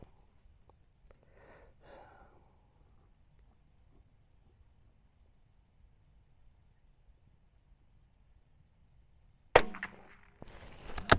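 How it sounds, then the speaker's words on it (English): Two sharp, loud rifle sighter shots crack out near the end at an outdoor target range, following a long stretch of near silence with faint movement noises. "Use the 4 sighter shots."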